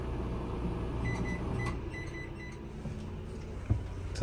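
Low steady hum of a microwave oven running inside a small camper trailer, with a faint mechanical drone and a soft click near the end.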